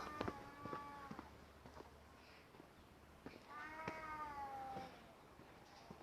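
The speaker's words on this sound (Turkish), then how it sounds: "Kedi sesine bak." A cat meows several times, drawn-out and wavering, with a few soft clicks and faint background noise between the calls.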